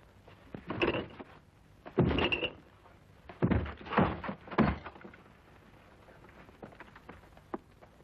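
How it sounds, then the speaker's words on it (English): Heavy thuds against a door as it is forced open, several loud bumps and bangs in an irregular burst over the first few seconds, then quieter rattling. "Force the door open."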